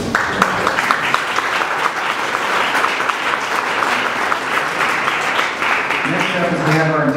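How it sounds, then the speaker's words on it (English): Audience applause for the sponsors at a Boulder Sports Hall of Fame induction dinner, steady and fairly loud throughout, with a voice coming in over the clapping near the end. "So please a round of applause for our sponsors."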